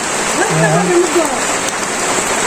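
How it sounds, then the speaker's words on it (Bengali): Rain falls steadily outdoors near a house, a dense continuous hiss with no breaks. A voice is heard briefly over it. "বৃষ্টি নামছে"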